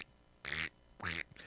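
Three loud duck quacks, each a harsh nasal burst, the second and third separated by short pauses, with no talk around them.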